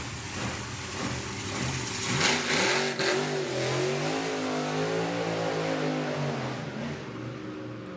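A drag racing car's loud engine roars and revs up and down with rising and falling pitch during a burnout at a drag strip, close by, with no talking.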